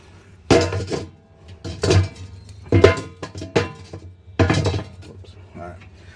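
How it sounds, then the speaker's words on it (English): A metal charcoal basket is set down onto the ash pan of an Oklahoma Joe's Bronco Pro smoker, giving four separate sharp, close metallic clanks and rattles with short pauses between them. "the charcoal basket, which will sit right on top of your ash pan"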